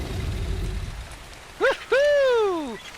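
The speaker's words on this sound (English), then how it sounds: "it's raining for us" Steady rain in a video game patters as a soft, even wash, then two rising-and-falling creature cries ring out near the end, the second longer and louder.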